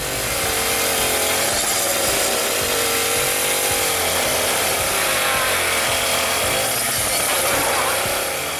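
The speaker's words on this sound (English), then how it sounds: "When you turn a stubborn stump into sawdust confetti, DIY level, pro." A machine grinding a stubborn tree stump into sawdust, a loud continuous grinding whine with wavering pitch as the cutter bites into the wood, running throughout.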